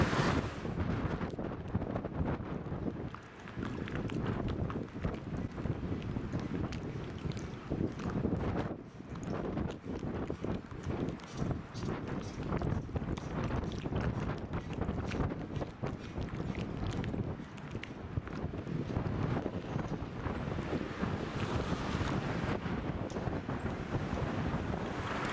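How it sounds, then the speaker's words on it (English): Strong winter wind by the water in Groningen, gusting hard and buffeting the microphone in continuous rough bursts with faint water movement underneath, no speech. "the wind over there is just too much"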